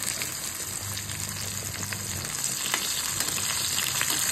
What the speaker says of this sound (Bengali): রসুন ফোড়ন দিয়ে দিলাম, রসুনটা একটু ভাজা ভাজা হোক